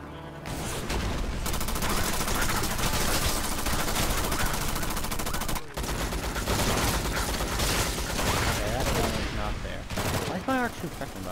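Rapid, continuous gunfire from a weapon in the shooter game Drawn To Death, dense and loud, runs almost the whole span with one brief break near the middle, while a voice briefly talks over the shooting toward the end.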